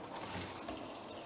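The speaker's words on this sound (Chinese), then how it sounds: "咱把它冲一冲水。" Pig kidneys rinsed under running tap water in a kitchen, a soft continuous splashing stream of fairly low level without talk.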